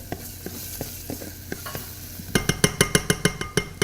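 Ginger and garlic sweating lightly in a pan, a soft sizzle under scattered spoon taps that give way to a quick, regular run of loud scraping strokes against the metal.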